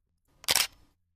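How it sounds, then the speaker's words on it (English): A single crisp camera shutter click used as a sound effect, short and close, sounding alone against silence. "This shutter click."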